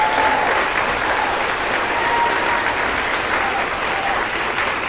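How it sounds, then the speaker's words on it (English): An audience applauds a string quartet, a dense, steady clapping that stays loud throughout the few seconds, with no voices standing out. "please give it up for today's quartet of Miranda, Caleb, Nara and Greg."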